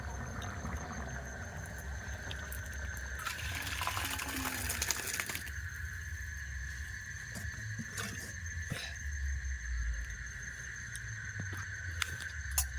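Pea and potato curry with coriander leaves pours out of the cooking pot, a liquid glugging and splashing that swells midway over a steady background hum, with scattered clinks and knocks afterward.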